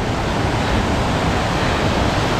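Water rushes with great force on a mountain trek, a loud unbroken roar of torrent close by that fills the whole moment, with no voices.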